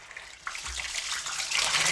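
Hot water gushes from a tap into a bath at home, a steady close rush of running water that swells and grows louder toward the end, with no voices over it.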